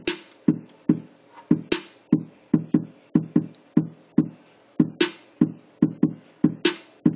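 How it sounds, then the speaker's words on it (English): A drum pattern programmed in FL Studio plays alone: punchy kicks and snappy hits in a steady looping rhythm, with bright crash-like accents marking each bar, close and clean with no talk. "Like yo drum pattern gonna sound like this."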